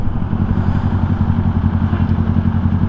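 A Kawasaki Ninja 400 race bike fitted with a Yoshimura R11 full exhaust runs on a Manila road, its engine giving a loud, steady, throbbing drone close by with no talk.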